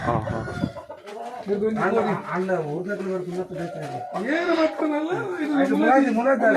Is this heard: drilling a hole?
no